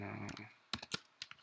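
Typing on a computer keyboard while entering a last name, a handful of crisp, close clicks and taps in an irregular rhythm that follow a short stretch of speech at the start.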